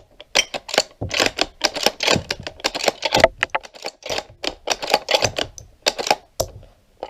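Series of sharp metallic clicks and clacks as a magazine is handled and seated into a Ruger AICS rifle, irregular close snaps with short pauses between them.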